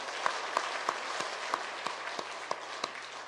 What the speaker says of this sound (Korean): 우리 하나님께 영광, 박수로 영광 드리겠습니다.